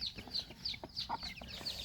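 Chickens kept alongside ducks cluck softly and briefly at feeding time, several quick faint calls close together.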